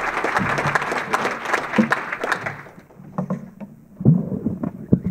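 Audience applause welcoming Doug Bradley and Craig Werner onto a stage at a talk, a dense crowd clapping that fades after a few seconds into scattered claps and room noise.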